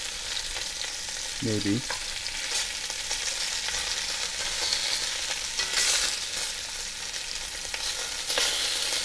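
Beef short ribs searing meat side down in a hot pan, a loud continuous sizzle with a few scrapes and clatters, and one brief spoken word early on.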